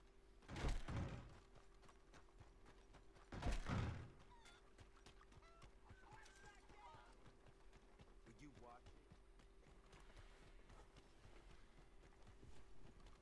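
Horse hooves clip-clop in a camp in the Red Dead Redemption 2 video game, with a couple of heavy thudding bursts among faint ambient sounds, and people talking quietly throughout.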